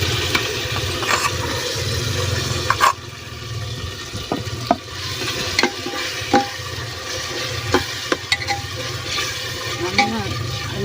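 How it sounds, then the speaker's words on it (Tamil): Ground masala paste drops into hot oil in a pan and fries with a steady sizzle, stirred now and then with scraping clicks, close by. "இப்போ நம்ம அரைச்சிட்டு வந்த பேஸ்ட் கொட்டிடலாம்."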